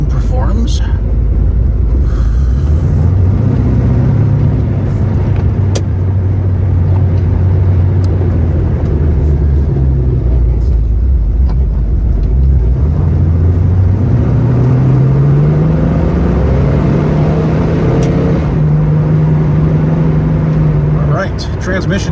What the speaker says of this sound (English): Let's go for a little test drive here.